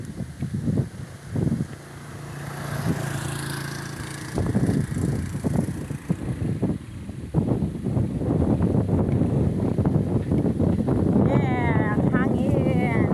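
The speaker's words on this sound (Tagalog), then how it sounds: "Grabe hangin guys oh." Strong wind buffets the microphone outdoors with gusty low roaring surges, while people talk loudly and continuously over it.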